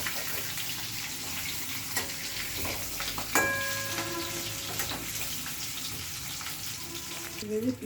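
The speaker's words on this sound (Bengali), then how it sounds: "এই দেখো কড়াইতে তেল, সাদা তেল দিয়েছে, আর এবার আলুগুলো ছেড়ে দিচ্ছে।" Potatoes fry in white oil in a wok, giving a steady, close sizzle with a few light clinks and stirring knocks over the hiss.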